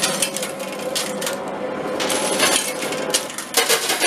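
Coins cascade and clatter inside an arcade coin pusher machine, a dense stream of close metallic jingling and clinking over the steady mechanical hum of the machine, with no talking.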